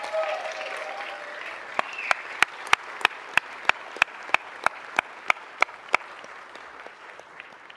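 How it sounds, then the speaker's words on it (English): Evenly spaced, sharp claps ring out at a city council meeting in honor of a longtime City Hall staff member, about a dozen in a steady beat over a soft room murmur. "Please give her a round of applause."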